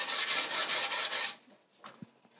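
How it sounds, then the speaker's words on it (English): Sandpaper rubbed back and forth on the wood of a semi-hollow guitar, six brisk rhythmic strokes up close, then the sanding stops and a few faint knocks and handling sounds follow. "Because as I sand,"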